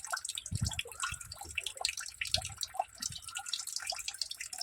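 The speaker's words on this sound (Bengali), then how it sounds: "জলটা ঢালো। ওঠাও ওঠাও, মগটাকে ওঠাও।" Water is poured and splashed from a mug, heard as irregular drips and small splashes at close range, moderately quiet and without speech.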